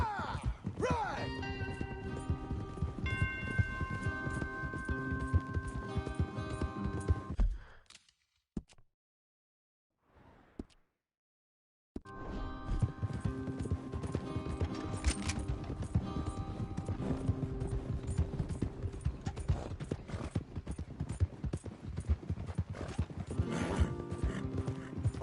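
Rhythmic clip-clop of horse hooves galloping close by in Red Dead Redemption 2, with a whinny, over game music; the hoofbeats drop out briefly midway, then resume.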